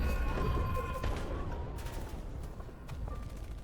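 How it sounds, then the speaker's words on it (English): Gunfire from a video game rattles through a dense, noisy scene, a fusillade of overlapping shots and crashes that runs continuously at moderate loudness. "gunshots, screams, and maniacal laughter fill my ears once more"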